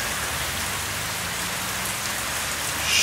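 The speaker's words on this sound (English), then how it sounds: "Sheets of rain." Heavy rain pours down in sheets during an Ohio storm, a dense, steady roar of drops drumming on surfaces, close and unbroken, swelling slightly louder at the very end.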